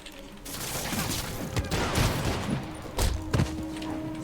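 Rapid bursts of gunfire in Marvel's Spider-Man Remastered, dense and continuous with louder thumping shots near the middle and end, set against game music and effects.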